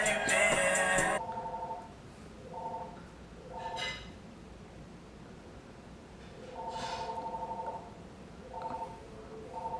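A telephone sounds in a house with repeated, moderately loud tonal bursts after a brief loud burst at the start, several separated rings spaced by short pauses.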